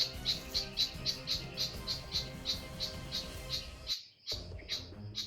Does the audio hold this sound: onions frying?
no